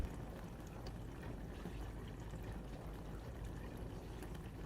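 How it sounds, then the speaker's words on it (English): Water flowing and splashing inside a running dishwasher, captured by close microphones as a steady, faint, broadband rushing wash with no voices. "So we can definitely hear the water flowing, which is an interesting experience."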